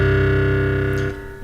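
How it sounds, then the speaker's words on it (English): A synthesized metal guitar built in Reason sustains a loud, distorted chord with a string bend, ringing steadily for about a second before cutting off into a fading tail. "you'll see guitarists bend the strings up as they play and bend up"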